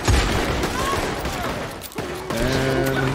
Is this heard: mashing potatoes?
no